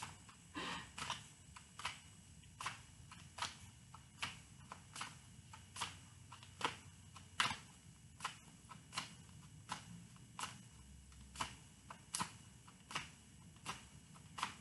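Cards being shuffled, heard as a series of sharp, papery snaps at a fairly regular pace, close by and alone.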